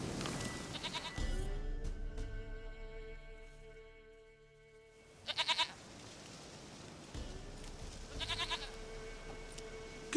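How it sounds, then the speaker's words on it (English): A goat in The Witcher 3 bleats several times in wavering, nasal cries, spaced a few seconds apart over a low ambient bed of wind and game sound, with no speech. "Goat of mine, dearest,"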